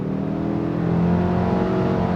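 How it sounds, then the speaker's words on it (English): A 2024 Subaru Ascent with a CVT pulls hard at full throttle, kicking down and then upshifting. The engine drone is steady and loud from start to finish, and a rising engine tone sits over road noise with no one talking. "full throttle giving you that kick down upshift sensation that you're probably used to from a conventional automatic"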